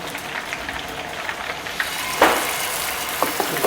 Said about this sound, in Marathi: ही पेस्टनंतर मी ते तवा फ्राय करणार, व्यवस्थित तेल तापल्यानंतर तव्यावर ठेवायचे।